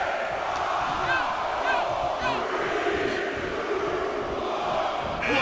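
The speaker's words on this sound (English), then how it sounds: "Just listen to the crowd." A large wrestling arena crowd in WWE 2K23 roars and cheers continuously during a Royal Rumble match, with scattered whoops and shouts rising above a steady wash of noise.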